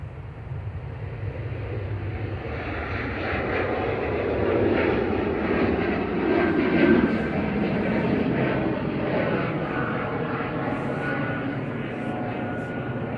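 A Swiss airliner on flight 381 departs Manchester Airport for Zurich, its engines giving a sustained, moderately distant roar that builds gently and holds steady, with no voices.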